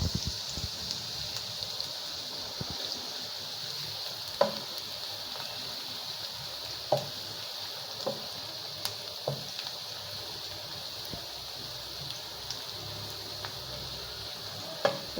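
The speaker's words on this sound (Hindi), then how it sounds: "तो मेरी ये प्याज कच्ची पक्की हो रही है" Onions frying in a pan for tawa chicken give a steady close sizzle, with scattered soft clicks and pops throughout and no talk.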